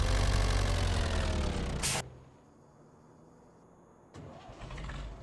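A tractor engine in Farming Simulator 25 is switched off, then a starter catches and the engine fires back into a steady idle, loud and close, with no talking.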